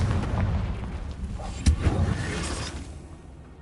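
Fiery Confringo spell blasts in the Hogwarts Legacy video game, a dense rumbling barrage of booms with one sharper burst near the middle, fading out toward the end, no talk.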